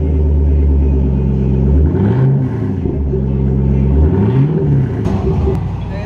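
A 2005 Ford Mustang with a 4.6L V8 and Borla ATAK exhaust idles with a deep, steady rumble, then is blipped in two low revs that rise and fall, with a brief voice at the end.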